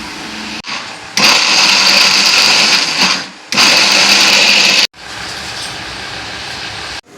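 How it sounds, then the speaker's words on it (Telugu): A kitchen mixie grinder runs loud and close in two whirring bursts separated by a brief stop, and a steadier, slightly softer run follows after another short pause. "తొందరగా ఇంక మిక్సీ పెట్టేసుకుంటాను."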